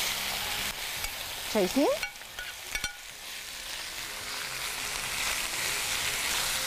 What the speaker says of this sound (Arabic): هاخد نقطه بسرعه من الزيت وهروح بسرعه، بسم الله، منزله الفراخ